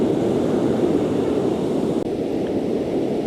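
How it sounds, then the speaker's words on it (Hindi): Strong wind and ocean waves at Dwarka beach after dark make a loud, steady roar of surf and gusting wind that stays constant throughout, with no voices. "हवा बड़ी तेज़ चल रही है और समुंदर की आवाज़, आहा हा, क्या मन शांत करती है।"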